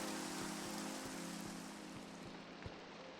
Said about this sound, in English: when it's raining outside but you enter a shelter of some kind,